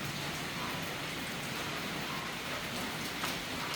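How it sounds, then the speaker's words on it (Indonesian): Light early-morning rain falls in a continuous, even hiss of moderate level, steady throughout with no talking over it. "nah ini teman-teman, hujan. Memang hujan tidak terlalu lebat"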